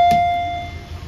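A single electronic bell tone at a train station, a clear sustained ring that fades over about half a second, with a faint knock and low background hum.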